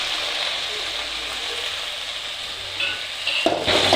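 Chopped onion and small diced tomato sautéing in a pan for chicken gravy, a steady broadband sizzle throughout with brief faint voice fragments near the end.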